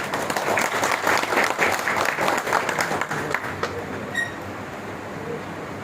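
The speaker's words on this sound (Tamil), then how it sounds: "பாராட்டு தெரிவித்து கரகோஷம் எழுத வேண்டும் என்று கேட்கிறேன்" An audience at a Tamil memorial talk breaks into sustained applause honouring those who helped, a dense wash of clapping that holds steady, then thins and fades toward the end.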